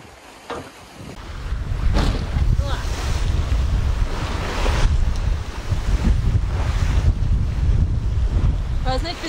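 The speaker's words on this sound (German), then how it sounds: "es ist unglaublich kappeliges Wasser" Rough, choppy waves slap and churn continuously near Europa Point lighthouse, Gibraltar, in 30-knot wind against the current, while the wind buffets the microphone with a steady low roar.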